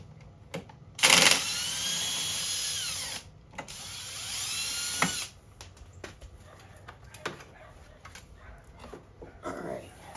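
A ratchet wrench works loose a 10 mm bolt on the lower mount of a shock, giving bursts of fast clicking ratcheting between pauses and a few sharp metallic knocks.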